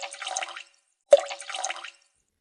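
Water poured into a cooking pot for sago soup in two steady streams separated by a short pause, close and fairly quiet.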